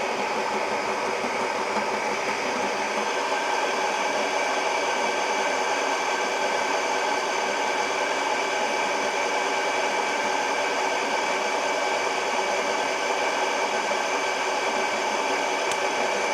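Ooni Halo Pro spiral mixer running a minimum batch of dough, a steady motor hum and whir with tonal drone, constant and close, with no talking.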